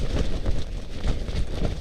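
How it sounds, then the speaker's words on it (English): Strong 30 to 40 mph wind buffets a tent on Mount Hood, making a continuous low, gusty rumble and flapping roar that swells and eases without pause. "The wind outside is 30 to 40 miles per hour."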